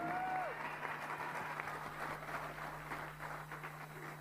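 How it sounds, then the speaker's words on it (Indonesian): Audience applauds Susilo Bambang Yudhoyono at a Partai Demokrat gathering, steady dense clapping that holds for several seconds at moderate level, with a low electrical hum beneath. "Berikan tepuk tangan yang meriah kepada Bapak Susilo Bambang Yudhoyono"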